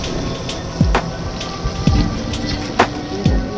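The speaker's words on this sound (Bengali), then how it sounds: "বৃষ্টি হচ্ছে" Steady rain falls and patters on surfaces outdoors, a dense, even wash broken by a few louder splashes and drips standing out at intervals.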